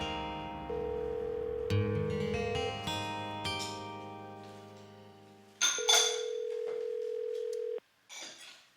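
A telephone rings repeatedly and goes unanswered, its steady electronic tones held in long stretches with brief gaps, close and clear over a quiet room.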